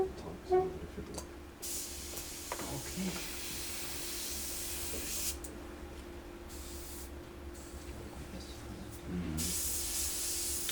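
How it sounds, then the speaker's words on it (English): An air compressor feeding an airbrush runs with a steady low hum, while hissy bursts of air start and stop several times and voices talk in the room. "Wait for compressor."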